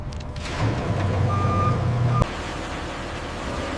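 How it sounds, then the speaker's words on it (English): A refrigerated delivery truck reverses at a salmon processing factory, a steady backup beep sounding for about a second over low engine rumble, then cutting off with a brief clank. "Refrigerated trucks arrive for delivery."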